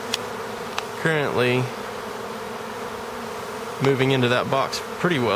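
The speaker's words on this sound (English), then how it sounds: "Thousands of bees in the air right now." Thousands of honeybees from a swarm taken from a house fly around a box in the shade, filling the air with a steady buzz while someone talks over it in short bursts.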